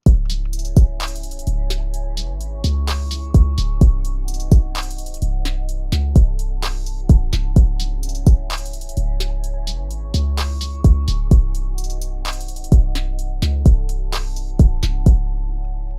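A trap beat drum loop with punchy kicks, snappy hits and a deep sustained low end repeating in a steady pattern, playing alone without any voice.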